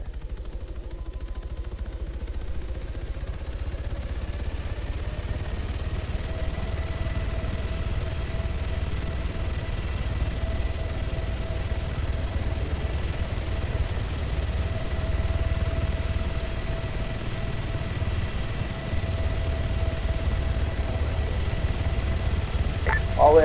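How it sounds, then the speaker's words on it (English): Continuous heavy rotor roar of two helicopters taking off together, building steadily, with a rising turbine whine holding over the low thumping drone throughout. "All in, both helicopters take off."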